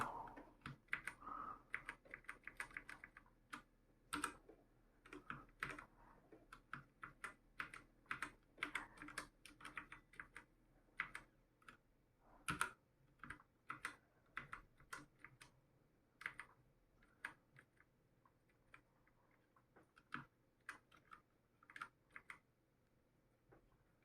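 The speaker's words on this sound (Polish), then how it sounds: "fajna ta klawiatura, Fajnie się nią bawi na kolory" Quick, irregular clicks of typing on a colour-lit computer keyboard, close and fairly quiet, in steady bursts with short pauses and no voices.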